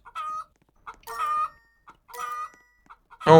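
Chickens on a Minecraft chicken farm in the video game, several short clucks in quick bursts with brief gaps, then a louder squawk at the end, no talk.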